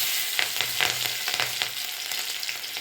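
Mustard seeds, cumin, asafoetida and curry leaves sizzle in hot oil for pauva batata, a close, steady hiss broken by sharp crackling pops and spits.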